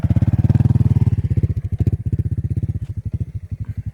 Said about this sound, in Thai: ขับมอไซค์ไปเลยนะครับ